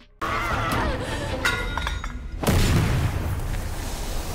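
A loud blast erupts, followed by a sustained roaring rumble and debris noise, over steady background noise.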